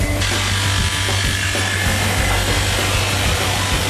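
A small power screwdriver drives a screw in the Mponeng Gold Mine, whirring steadily and continuously at close range, a buzzing motor with a gritty, grinding edge.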